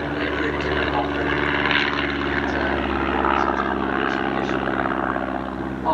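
A propeller aeroplane drones steadily overhead during an evening air display at the Sywell Airshow, its engine a loud continuous hum lasting throughout without pause.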